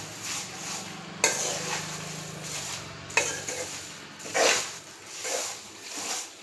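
Roasted drumstick leaves being stirred in a pan, dry and crisp, with a steady rustling scrape and a few sharper scraping strokes of a utensil against the pan, close and fairly quiet, with no talking.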